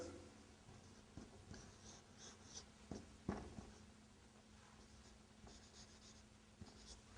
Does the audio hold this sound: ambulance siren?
no